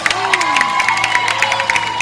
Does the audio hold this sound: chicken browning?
no